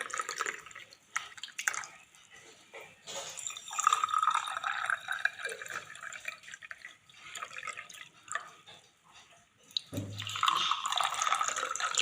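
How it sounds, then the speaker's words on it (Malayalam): Water is poured and trickles steadily into a container, splashing briefly, then a louder gush near the end; no talking. "നമുക്ക് വെള്ളം ഒഴിക്കാം."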